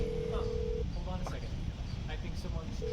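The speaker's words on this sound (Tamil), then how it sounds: "இப்போ நம்ம ஃபோன் எடுத்துகிட்டு அந்த ப்ரோட்டோடைப்புக்கு கால் பண்ணுவோமா?" A phone call rings out in the GTA 5 video game, a steady ringback tone that sounds at the start, breaks off, then returns near the end over busy game background noise with faint voice-like sounds.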